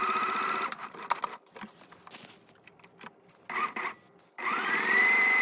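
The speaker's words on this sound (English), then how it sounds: "Now take out your sewing machine and sew the perimeter" A sewing machine stitches around the perimeter of bag fabric in bursts, its rapid mechanical stitching starting and stopping, with a longer steady run at the end.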